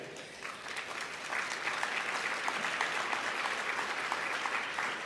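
An audience at a Chicagoland Chamber of Commerce meeting claps for the governor, a continuous, fairly distant patter of many hands that swells slightly after the first second and holds steady.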